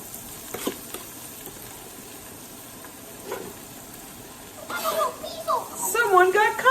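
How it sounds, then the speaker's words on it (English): Onions and peppers hit a still-warm Instant Pot, giving a soft, low sizzle and a few stirring clatters, with a voice and other talk rising over it toward the end. "I'm going to throw in some onions while it's still a little warm, and the peppers, and they'll start to cook"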